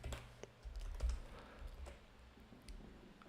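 Computer keyboard typing, a quick irregular patter of soft key clicks close by, continuing steadily over a low background hum.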